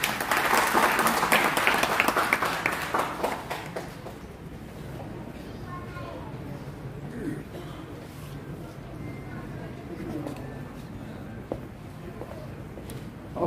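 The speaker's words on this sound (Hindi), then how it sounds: "जोरदार तालियां।" Applause from an audience at a Hindi-language event honouring Babasaheb Ambedkar, strong clapping at first that fades after a few seconds into a murmur of low background chatter and room noise.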